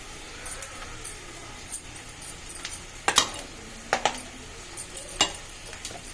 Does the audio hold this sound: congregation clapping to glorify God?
no